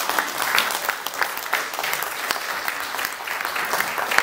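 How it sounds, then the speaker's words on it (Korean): An audience applauds a speaker at a Korean lecture event, a steady patter of many hands clapping at moderate distance for several seconds. "우리 철도인으로서 박수 한번 다시 한번 드리겠습니다"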